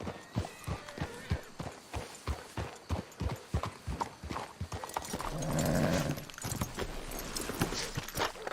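Steady clip-clop of horse hooves at a walking rhythm in a video game, close and fairly loud, with a low rumbling swell joining in midway.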